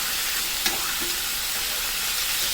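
Pork chops with a sticky glaze fry in a pan over medium heat, giving a dense, even sizzle throughout, with a faint clink or two from a utensil near the start.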